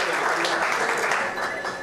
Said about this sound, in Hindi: जोरदार तालियों के साथ राहुल रॉय जी का स्वागत करें